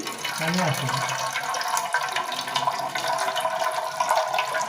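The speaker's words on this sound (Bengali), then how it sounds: "এই তো ডাবের পানিটা পানি অনেকগুলো হয়েছে" Water from a green coconut pours out in a continuous gurgling, splashing stream, close and fairly loud, with a voice speaking faintly in the background.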